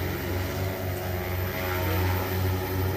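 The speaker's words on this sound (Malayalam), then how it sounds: "ഒരു ചെറിയ ഹെലികോപ്റ്റർ പോകുന്ന അതിൻ്റെ ഏകദേശം ഒരു ഫീലിംഗ് ആണ് ഈ ഒരു ഡ്രോൺ പറന്ന് പൊങ്ങുമ്പോൾ കേട്ടോ" An agricultural pesticide-spraying drone flies over a field, its rotors giving a steady droning hum like a small helicopter, continuous and fairly loud with no talk.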